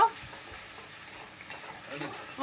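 Spice paste with chili powder being sautéed in a pan, a soft continuous sizzle with scraping stir strokes, faint and close, no talking.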